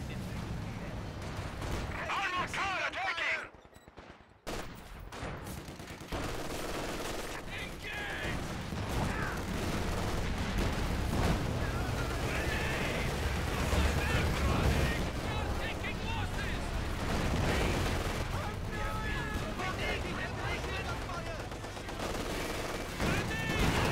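Gunfire in the real-time strategy game Company of Heroes 2, a Soviet Guard Motor Coordination force against German Mobile Defense with quad MG42, continuous rattling machine-gun bursts and shots layered over battle noise, with unit voice lines heard.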